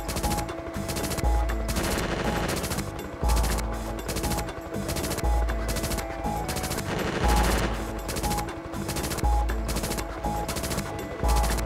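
Sustained rapid gunfire from a PlayStation game, fired steadily at a target as a dense, loud, continuous rattle with regular pulsing bursts over music-like tones, no talking.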